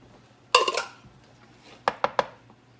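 Chili peppers dropped into a pot of cheese dip heating toward a simmer, giving a sharp clattering burst followed a moment later by three quick distinct knocks of pot or utensil, no talk.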